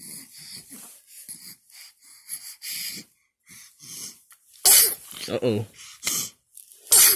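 A two-month-old baby sneezes a few times in quick bursts near the end, loud and close, after stretches of soft breathing and wheezy snuffles, with someone talking over it.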